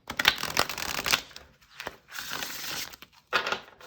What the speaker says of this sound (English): Oh, such a satisfying shuffle.